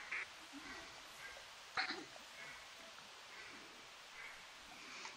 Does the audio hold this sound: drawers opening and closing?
no